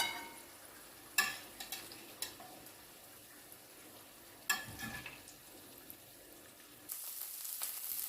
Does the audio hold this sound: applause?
no